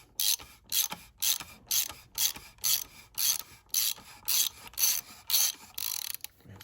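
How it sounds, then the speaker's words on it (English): A ratchet with a 15/16 socket works loose the oil filter housing on a 2014 Jeep Wrangler, giving about a dozen evenly spaced bursts of rapid pawl clicking, close and steady with no talking. "we're going to get our 15/16 socket, and we're going to take the oil filter housing out"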